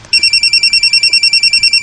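A mobile phone rings loudly and close by, with a rapid, even electronic trill of pulsed high beeps that keeps going steadily with no voices.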